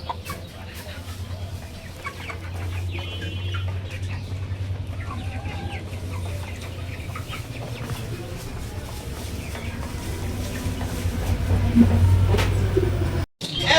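Chickens cluck and squawk in a busy poultry market, a steady crowd murmur and bustle running underneath with a louder low rumble swelling near the end.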